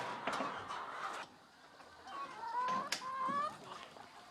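Free-range laying hens on a farm with 7,000 birds cluck and make drawn-out squawking calls, several birds overlapping at moderate distance, with no voices.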